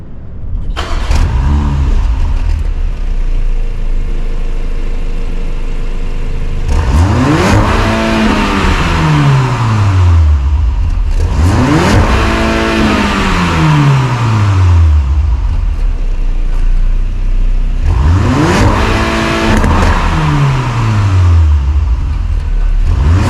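A parked 2022 Porsche Macan base model has its engine revved hard to redline three times, each loud, close rise followed by a falling whine back to idle.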